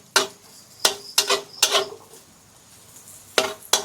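A metal spatula clanks and scrapes against a pan while shallots, garlic and freshly picked home-grown curry leaves are stir-fried, giving four or five sharp, separate knocks with quiet gaps between them and no talking.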